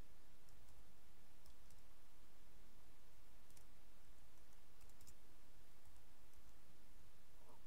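Keys clicking on a computer keyboard while Python code for a cost matrix is typed, a faint, steady patter of small taps with a few sharper clicks, no voices.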